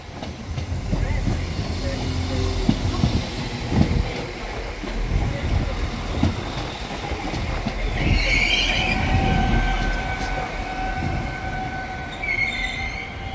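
A train passes through Sheffield station with a continuous rumble of wheels on track, rising metallic squeals and screeches partway through, heard close and fairly loud throughout.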